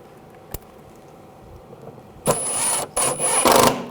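Short bursts of a tool tightening screws on the windshield washer reservoir of a 2007-2013 BMW 328i: a single click, then two or three close, loud whirring, rasping runs separated by brief pauses.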